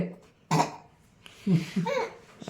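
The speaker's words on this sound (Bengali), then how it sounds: "ঘুমানোর কথা বললেই কাশি উঠে আসছে" A single sharp cough, then a few short throaty voiced sounds like more coughing or throat clearing, close and moderately loud.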